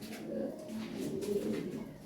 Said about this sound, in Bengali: হাই কোয়ালিটি এক জোড়া কবুতর